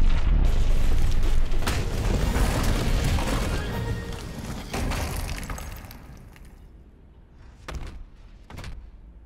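Cannon attack in a superhero video game: a loud booming blast with crashing, shattering impacts that roll on for several seconds, then fade into a few sharper hits near the end.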